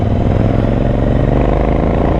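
Royal Enfield Continental GT motorcycle being ridden, its engine a steady close low rumble with continuous thumping texture and no pauses, nobody talking over it.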